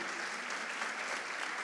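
Soft, steady applause from a church congregation during a sermon, a continuous even patter of many hands heard from a distance and fairly faint, with no voices.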